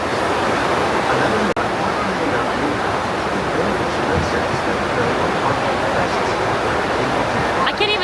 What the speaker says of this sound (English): this rain is insane